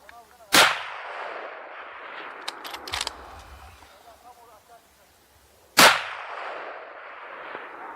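Two sharp, loud shotgun-style reports during a wild boar hunt in Turkey, spaced several seconds apart outdoors, each followed by a short decaying echo, with quiet rustling and faint sounds between them.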